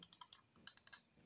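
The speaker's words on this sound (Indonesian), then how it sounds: "Oh, mouse-nya bukan yang silent ya." A Logitech M170 wireless mouse clicking in a quick uneven series of about nine sharp, close, crisp clicks heard alone.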